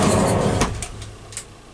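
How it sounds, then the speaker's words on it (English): A Japanese sliding door with a soft-close receiver is pushed along its track, a short rolling slide ending in a dull thud and a faint click, close and alone. "Now to test the door."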